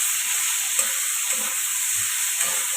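Onion paste and chopped tomato stirred in hot oil: a steady high sizzle with soft periodic scraping strokes of the spoon, close and clear, with no talking.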